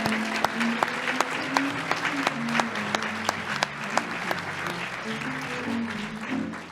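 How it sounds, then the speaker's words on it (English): At a Topeka Business Hall of Fame banquet, an audience applauds the laureates with a continuous wash of clapping. Sharper individual claps stand out near the front, and a low murmur of voices runs underneath. "Let's give them another round of applause."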